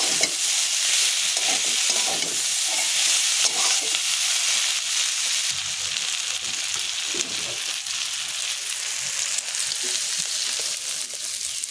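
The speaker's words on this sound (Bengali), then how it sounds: "এটাকে বলা হয় পটলের লট ভাজা" Pointed gourd tips sizzle and fry steadily in a pan, with occasional stirring scrapes, close and continuous with no talking.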